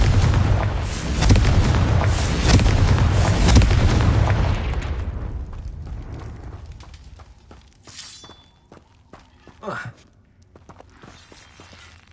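A Confringo blasting spell exploding in the Hogwarts Legacy video game: a loud, roaring blast with shattering debris that rumbles for several seconds, then fades to quiet footsteps and small knocks.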